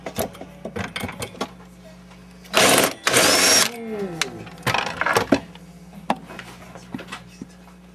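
A power drill whirs in one loud, steady burst lasting about a second, backing screws out of a piano's cast-iron harp. A shorter rattle follows, with voices and workshop clatter around it.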